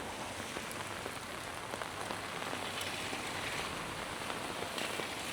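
Steady rain pours down on surfaces in Da Nang, a dense, even hiss holding at the same loudness throughout, with faint scattered drips and no voices.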